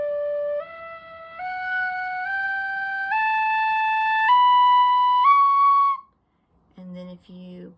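Tin whistle in D blown softly, a rising sequence of low sustained notes stepping up one by one, then a pause and a few short clipped sounds.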